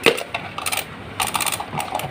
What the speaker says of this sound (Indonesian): Sekarang kita ambil telur warna hijau ini ya. Kita pecahkan.